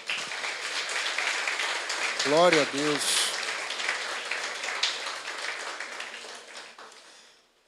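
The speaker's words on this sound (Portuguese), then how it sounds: "Vamos aplaudir Jesus?" A church congregation claps for Jesus during a sermon: a spread of steady clapping with a voice briefly calling out over it, the applause thinning and fading away near the end.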